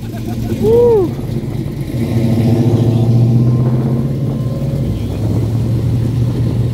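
A Chevelle rolls past at a hot rod tour at Atlanta Motor Speedway with a deep, rumbling engine that swells and lingers nearby, while an excited voice whoops and people talk over it.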